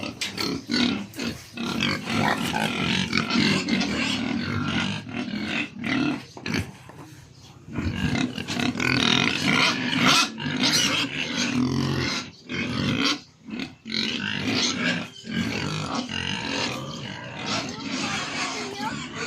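Low grunts from domestic pigs recur amid steady talking, with dense broadband noise and a few brief pauses throughout.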